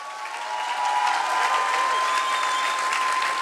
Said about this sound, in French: Allez, applaudis-le, il veut se servir de toi.